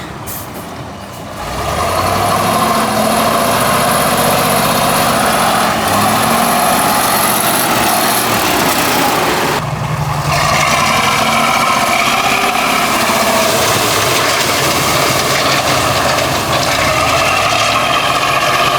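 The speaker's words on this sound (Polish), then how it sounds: "Tutaj za mną prawdziwa bestia prosto z Czechosłowacji, Tatra 815." A Tatra 815 ballast tractor truck idles loudly and steadily close by, its heavy engine rumbling throughout. A sharp air-brake hiss bursts out near the start and again midway.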